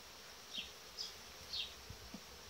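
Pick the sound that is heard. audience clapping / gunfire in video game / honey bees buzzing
honey bees buzzing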